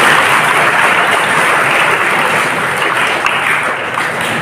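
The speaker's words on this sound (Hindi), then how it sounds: "और लास्ट टाइम आप अपने लिए ताली बजाएंगे।" Students at a government higher secondary school seminar clap for themselves in a sustained, dense round of crowd applause, loud and even from start to finish with no voices on top.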